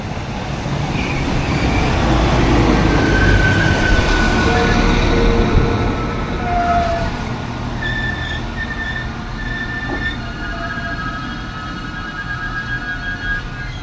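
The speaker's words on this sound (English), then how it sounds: "We do have a passenger train coming that way though." A passenger train rolls past close by in a loud, sustained rumble, with thin metallic squeals from the wheels rising and fading over the roar. No voices are heard.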